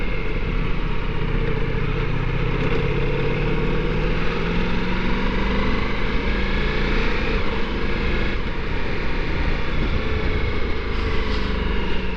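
Ducati Multistrada V4S motorcycle accelerating on an open road, a continuous loud engine drone rising in pitch through the gears under heavy wind rush.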